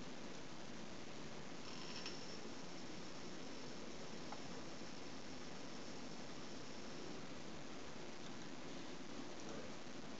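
A micro air vehicle's motor 1 runs under computer control, giving a steady, even whirring hiss with a faint high whine for the whole stretch and no speech.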